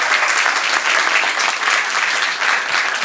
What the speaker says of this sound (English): we give her a big old round of applause